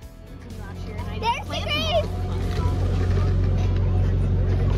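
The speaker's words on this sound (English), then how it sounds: "what pumpkin patch visit would be complete without a tractor ride?" A tractor pulls a ride through a pumpkin patch, its engine a steady, loud low rumble that swells and holds, while children's voices chatter briefly near the start.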